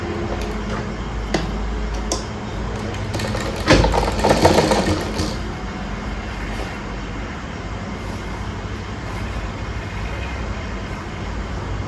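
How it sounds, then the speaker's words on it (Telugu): A tailor's sewing machine runs steadily while stitching a prince-cut design blouse, a close continuous whirring hum with a few brief louder bursts partway through. "ఇప్పుడైతే కొలత కుట్టు వేసుకున్నాను."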